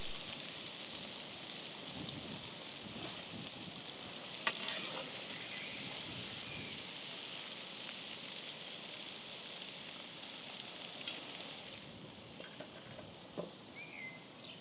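Giant sea crab and crayfish frying in a pan by the shore, a steady dense sizzle running throughout, with a few brief clinks and a slight drop in intensity near the end.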